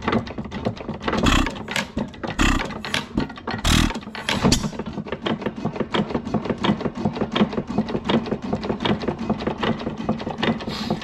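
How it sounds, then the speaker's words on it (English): A hit-and-miss engine runs slowly, its uneven firing strokes thudding among a steady rhythmic mechanical clatter, loud and close, with no one talking. "Happy little engine."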